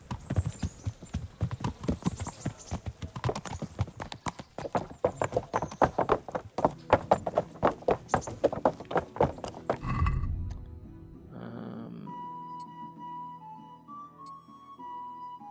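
Horse hooves clip-clop in a steady, dense rhythm for about ten seconds in the medieval game Kingdom Come Deliverance, then stop and give way to quieter ambient tones.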